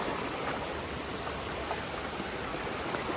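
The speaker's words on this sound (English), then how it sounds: "we've reached this beautiful little creek" A small creek flows beside a hiking trail, a constant broadband rush and babble of water close by, even and unbroken, with no talking.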